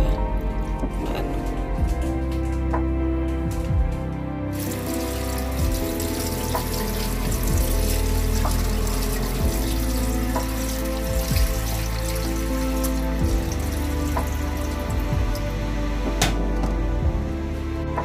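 Tap water runs steadily into a sink while chicken for tinola is rinsed, a continuous close splashing stream with scattered knocks and clatters and no talking.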